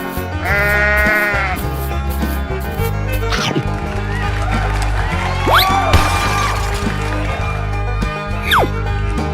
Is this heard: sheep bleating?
yes